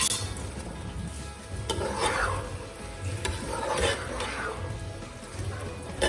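Green chillies, curry leaves and capsicum tossed and stirred in a frying pan, with a soft continuous sizzle and several swishing, scraping strokes up close, no one talking.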